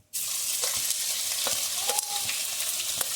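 Cumin, garlic and chilli sizzling in hot oil for jeera aloo, a steady bright frying hiss with occasional spoon stirs and small pops, close and continuous after a brief start.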